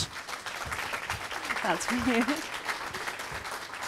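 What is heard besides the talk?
audience applause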